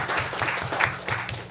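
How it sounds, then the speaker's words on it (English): People at a San Clemente city council meeting clapping together, a brisk, fairly close round of applause from a small indoor crowd. "let's give everybody a round of applause"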